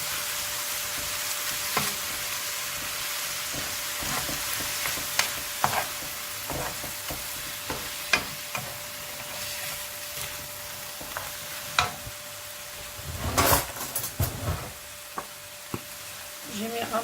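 Onion fries in a pan with a little salt, giving a constant close sizzle broken by repeated spatula scrapes and knocks as it is stirred. The stirring grows busier near the end, and there may be faint background voices.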